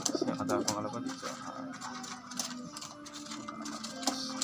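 Pigeons coo repeatedly over a busy background of rattling, mechanical-sounding clatter, close and fairly loud throughout.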